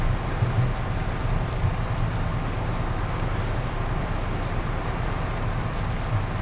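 Steady rain falls in Farming Simulator 19 with the Seasons mod on a farm map, a constant even hiss that holds throughout with no talking.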